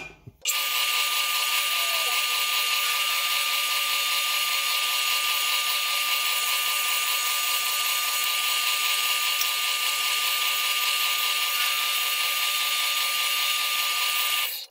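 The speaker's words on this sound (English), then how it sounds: "these are drilled one size under 1/4 inch for reaming." A power drill bores holes one size under 1/4 inch in metal parts for Kant twist clamps, a steady loud whine running continuously for the whole stretch after a brief start.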